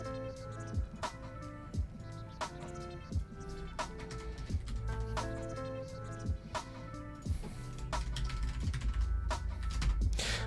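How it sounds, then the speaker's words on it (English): Clicks of fingers typing a password on a computer keyboard during a Chia mining rig upgrade, a run of close, light keystrokes over a steady tonal background hum. "I'm typing my password on here"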